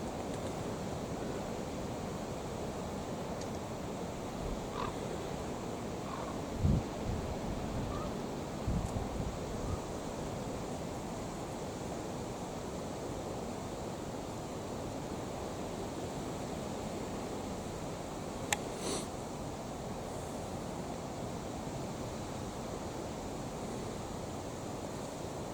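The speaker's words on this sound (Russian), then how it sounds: "Главное, ветер сильный и не скидывает никого." Strong wind blows outdoors where pigeons are being flown, a constant loud roar battering the microphone for the whole stretch, with a couple of faint knocks and no speech.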